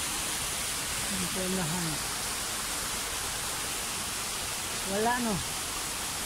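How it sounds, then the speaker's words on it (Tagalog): A strong current runs through a hidden stream, a constant close hiss of rushing water, broken by two short bursts of talk. "Lakas ng agos."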